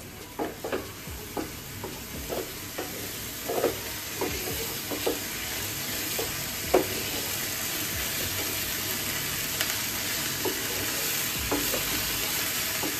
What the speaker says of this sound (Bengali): পেঁয়াজের কাঁচা গন্ধটা যাওয়া পর্যন্ত কষাতে থাকবো একই সাথে মিশিয়ে দিচ্ছি আদা রসুন বাটা